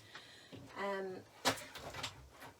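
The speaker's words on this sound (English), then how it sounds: "So I've just heard my front door go." A front door in a house opens or closes with a faint creak of the hinge and then a thud and rattle. The sounds are quiet and distant.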